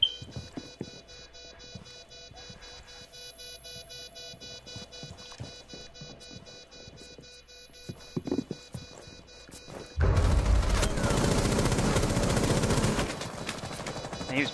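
Rainbow Six Siege video game gunfire: scattered faint shots and footsteps under a quiet tense lull, then a sudden loud burst of close automatic fire lasting a few seconds before fading back.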